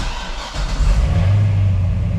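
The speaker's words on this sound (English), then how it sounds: "we're gonna start the vehicle" A C6 Corvette ZR1 engine starts up close by, rising in a deep surge and then settling into a loud, steady idle rumble.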